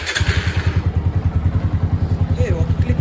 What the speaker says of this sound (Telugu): సో ఫస్ట్ బండిని అయితే కొంతసేపు హీట్ చేద్దాం.